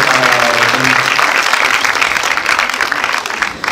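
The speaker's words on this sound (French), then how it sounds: "Vous pouvez l'applaudir." Loud, sustained audience applause at a film premiere in a Paris cinema, thick and continuous throughout, with a voice briefly audible over it at the start.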